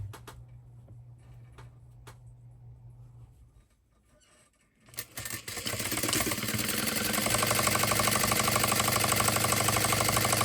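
A sewing machine stitching a mini tote bag at a half-inch seam, starting with low hum and sparse clicks, a brief lull, then a loud steady rapid mechanical whirr that runs to the end.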